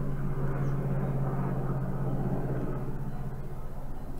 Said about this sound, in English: Wait until this loud jet, whatever it is, flies over.